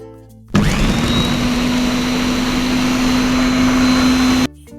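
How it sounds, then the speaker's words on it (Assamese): Mixer grinder blending coriander chutney in a closed jar, a loud, steady motor whine that starts abruptly and runs for about four seconds before cutting off. "এতিয়া আমি জাৰটো ঢাকন বন্ধ কৰি এইখিনি গ্ৰাইণ্ড কৰি ল'ম"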